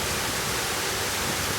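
Large volume of water rushing down a drain at the Tirta Gangga water palace in Bali, a steady, loud, dense roar with no break, heard alone.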